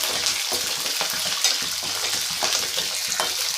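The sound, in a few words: green chillies and ginger sautéing in a pan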